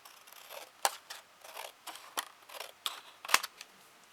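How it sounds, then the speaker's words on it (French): Scissors cutting paper for an envelope album craft, a quiet close series of crisp snips and clicks at an uneven pace, alone without talk. "Et je vais couper au ciseau du coup."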